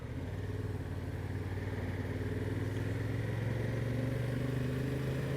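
Honda Transalp 750 motorcycle ridden on a dry, cold road, its engine droning steadily and close throughout with a low, even rumble and wind noise, no talking.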